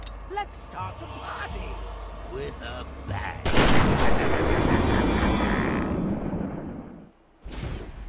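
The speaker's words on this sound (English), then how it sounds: "Use the middle stick to dodge Joker's gunfire." Loud bursts of gunfire from the video game Batman: Arkham Asylum blast through the scene over a dense rumble, with voices speaking early on before a brief drop and another burst.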